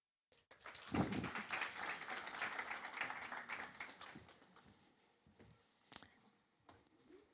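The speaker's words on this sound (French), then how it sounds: "Merci pour vos applaudissements." Applause from a church congregation, a brief burst of clapping that swells quickly, holds for a few seconds, then trails off into scattered faint claps, quiet and somewhat distant.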